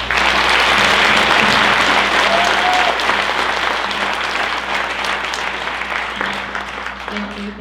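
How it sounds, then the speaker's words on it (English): Sustained, loud applause from a crowd at a Ute Indian pow-wow in Steamboat Springs, honoring the dancers and singers; dense clapping fills the whole stretch and tapers slightly toward the end, with a few voices faintly mixed in. "a round of applause"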